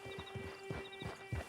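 Horse hooves clip-clopping at a steady walking rhythm in the Red Dead Redemption 2 video game, four or five clear thuds close by under a faint musical hum, with no talking.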